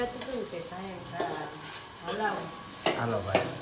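Food being tempered, frying and stirred in a pan in a village home, with soft sizzling and clinks of a spoon against the pan under nearby talking.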